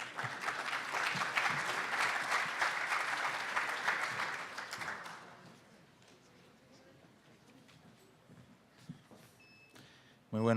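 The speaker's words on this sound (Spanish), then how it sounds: "recibámoslo con un fuerte aplauso" Audience applause welcoming a speaker at a convention in Cartagena, steady dense clapping for about five seconds that stops abruptly, followed by quiet room tone and a voice beginning at the end.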